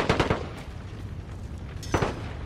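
Gunfire in a video game: a quick cluster of three close shots at the start, then a quieter stretch of background noise before another short burst of a couple of shots near the end.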